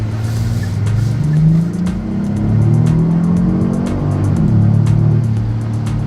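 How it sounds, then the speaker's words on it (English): A Genesis G80 Sport's twin-turbo engine pulls hard in sport mode from inside the cabin, a steady low drone with rising and shifting tones as it accelerates, loud and continuous. "You can hear the engines, the twin turbos breathing"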